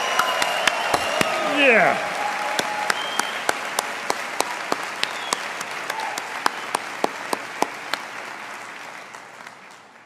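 A church congregation applauds children's workers, a broad wash of clapping punctuated by regular sharp individual claps that slowly fades, with a brief voice early on.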